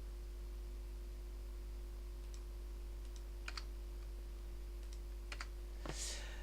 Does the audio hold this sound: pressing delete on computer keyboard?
yes